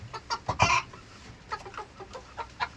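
Chickens clucking in short scattered bursts at a farm coop, with a louder cluster of calls early on and softer intermittent clucks after, moderately close.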